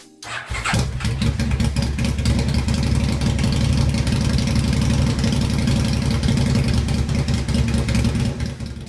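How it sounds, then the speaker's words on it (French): A dragster built from a Postman Pat toy van, fitted with racing wheels, special tyres and a 500cc four-stroke engine, roars to life and runs loudly and steadily close by, with a rapid throbbing exhaust and no talk. "Ils ont ensuite ajouté des roues de course, des pneus spéciaux et un moteur à 4 temps de 500 cm3."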